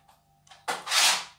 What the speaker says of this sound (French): le bruit que vous entendez, c'est mon chien derrière, qui est dans son panier et qui fait du bruit avec ses griffes